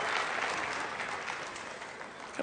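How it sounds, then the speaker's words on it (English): Steady applause from an audience at a national dog show's Best in Show judging, a dense, continuous clapping that holds at an even level throughout with a slight swell at the end. "people are clapping as she steps in front of their favorite."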